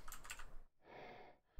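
Cheat commands are typed on a computer keyboard for Ark Survival Ascended, a quick burst of close soft key clicks followed by a short breathy hiss, quiet and with no talk.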